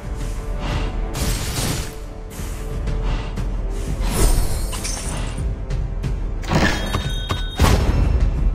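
A turret is destroyed in a Mobile Legends ranked match, heard as layered game booms, shattering crashes and thuds amid dense skill and combat effects, loud and continuous with heavier impacts near the end.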